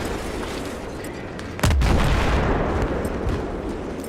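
Battlefield 3 gunfire in a mountain battle, a loud sudden blast with a deep rumbling tail after a steady background of distant shooting, heavy and close.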